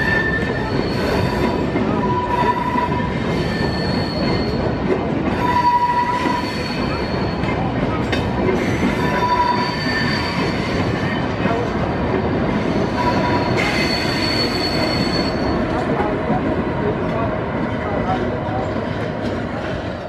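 Trains cross the railway bridge into Cologne main station with a continuous rumbling roll and repeated high metallic wheel squeals, close and loud, while a voice speaks intermittently underneath.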